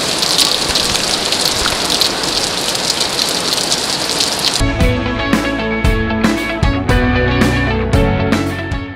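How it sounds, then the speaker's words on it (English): Heavy rain pours down in a dense, steady hiss for several seconds, then gives way to louder, closer patter and drumming of drops striking a hard surface. "It is raining hard."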